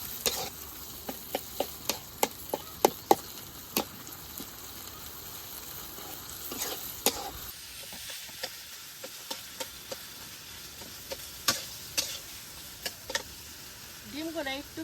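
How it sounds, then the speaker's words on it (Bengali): Potatoes stir-fried in spices in a pan give a steady sizzle, with repeated sharp clinks and scrapes of a spatula stirring, near and clear; a voice speaks briefly over the cooking. "মশলার মধ্যে আলুগুলো ভালোভাবে কষে নেই।"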